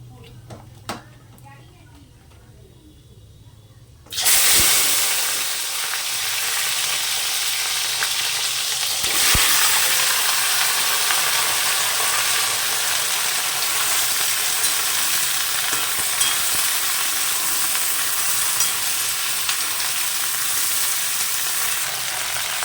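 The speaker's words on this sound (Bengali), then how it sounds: "আমি ওই কালো জিরে ফোড়ন দিয়ে সিমটাকে ভাজবো" Broad beans hit hot oil tempered with nigella seeds and burst into a loud, steady sizzle that holds with occasional stirring clicks; a voice talks quietly before the beans go in.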